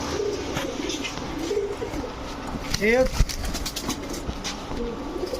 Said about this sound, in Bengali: এখন দেখাবো লক্ষা কবুতর, একদম ফুল জেট